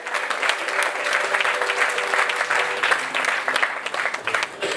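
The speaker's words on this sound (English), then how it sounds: "I'm sure you can put your hands together and give them a round of applause as well" A crowd applauds at a national literary awards ceremony, steady dense clapping that holds for the whole stretch, fairly loud and close, with no voices over it.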